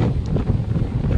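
Strong coastal wind at Giant's Causeway in Northern Ireland, a steady loud rushing roar buffeting the microphone for a brief moment.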